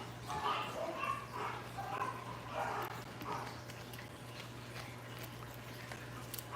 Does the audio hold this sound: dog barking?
yes